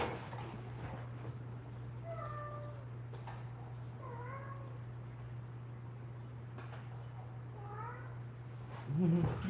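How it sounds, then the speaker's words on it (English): A cat meows several times at moderate distance over a steady low electrical hum, with a closer sound at the very end. "You hear that, cat?"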